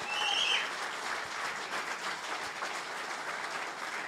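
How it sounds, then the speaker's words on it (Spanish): A church congregation claps loudly during a Spanish-language sermon, a dense steady patter of applause that swells briefly at the start and then holds evenly throughout. "Dale un aplauso fuerte al Señor."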